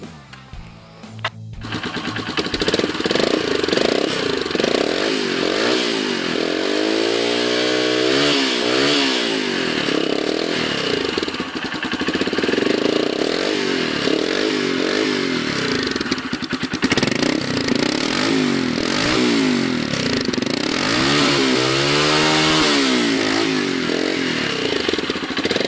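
Close and loud, a Honda CB125E motorcycle fitted with an IXIL exhaust starts up and idles with a rasping, buzzy note, then is blipped repeatedly so the revs swell and fall in a series of sharp rises throughout.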